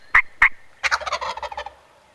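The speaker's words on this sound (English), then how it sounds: "This bird faces us, pecks the decoy a few times, and gobbles right in our face." A wild turkey close by gives two sharp yelps followed by a loud, rattling gobble that trails off over about a second, near and clear in an outdoor hunting setting.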